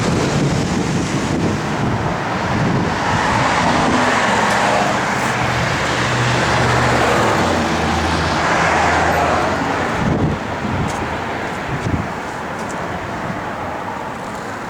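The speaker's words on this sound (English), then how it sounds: "Car sounds good." A 1967 Chevrolet Chevelle SS with a new fuel tank idles steadily nearby, a continuous low engine rumble under some wind buffeting on the microphone.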